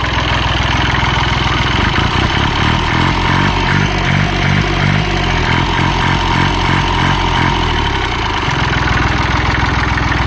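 Loud, close diesel engine of a Kubota L1-22 three-cylinder tractor idling with a steady, slightly lumpy chug, rising briefly in throttle midway before settling back.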